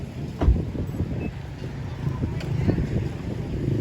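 Outdoor wind gusting steadily in open air on a cool evening, a low continuous rumble with a few soft buffets, under faint background noise.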